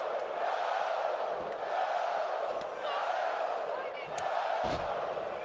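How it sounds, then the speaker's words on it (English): A capacity wrestling crowd at a live WWE SmackDown event in San Jose roars and cheers wildly, a loud, sustained arena din with surging swells and sharp shouts throughout. "Capacity crowd here in San Jose becoming unglued."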